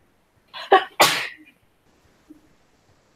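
One loud, close sneeze with a sharp intake and forceful burst, followed by near silence.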